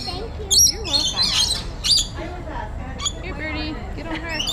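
Zoo birds squawk and chirp in loud, sharp bursts close by while people talk over them.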